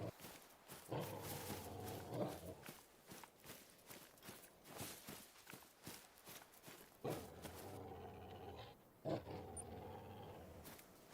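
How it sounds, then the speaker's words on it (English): A dog growls in The Hunter: Call of the Wild, a low sustained rumble that swells and fades in long stretches beside soft footstep-like crunches, mid-distance and fairly quiet. "This dog is still growling"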